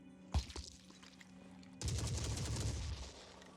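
Gunfire pours into an alien spawnery in the tactical game Phoenix Point: a sharp isolated shot early, then a dense sustained burst of rapid firing and impacts, loud and continuous to the end.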